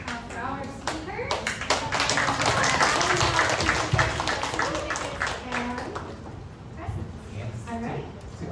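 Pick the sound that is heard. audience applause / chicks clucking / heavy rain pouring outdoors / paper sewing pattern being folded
audience applause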